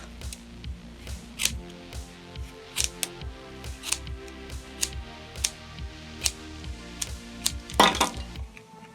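Scissors snipping rerooted hair off a doll's head, a steady series of sharp, close metallic cuts about every half second, with a louder rustle near the end.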